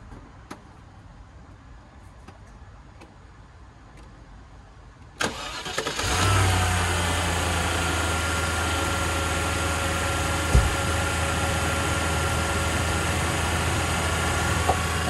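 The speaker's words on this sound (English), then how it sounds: "I literally just moved it here, so it's pretty much a cold start. But I can do it. Let's fire it up. Listen to it run." A Land Rover engine cold-starts after a few seconds of faint background ticks, then settles into a steady, loud, close idle that continues to the end.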